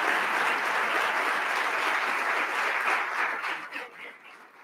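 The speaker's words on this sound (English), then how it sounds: "Let's give a round of applause and welcome these amazing CMC members." An event audience applauds to welcome CMC members, a full, steady roar of many people clapping that stays strong for several seconds and then thins and tapers off toward the end.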